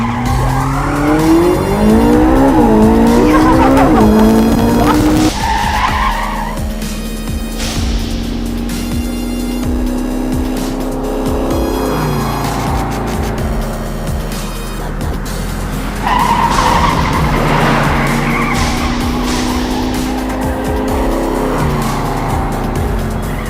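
A Ferrari roars at high speed with tires squealing through skids, engine note rising and falling sharply, loud and close throughout with repeated bursts of screeching rubber.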